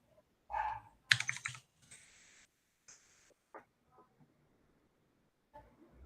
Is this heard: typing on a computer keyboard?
yes